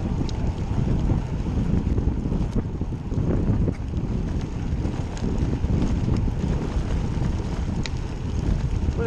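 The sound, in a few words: wind noise while riding a bike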